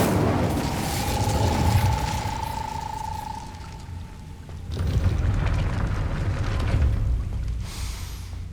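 An Incendio fire spell cast in the video game Hogwarts Legacy: a rushing, roaring burst of flame swells, dies down, then flares up again in a second rumbling whoosh.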